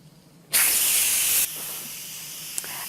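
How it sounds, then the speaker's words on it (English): A pressure cooker's quick-release valve is flipped open while quinoa cooks, and steam bursts out in a sudden, loud, sharp hiss that holds for about a second, then drops to a softer continuous hiss. "I'm going to flip the switch so that the steam will quickly come out"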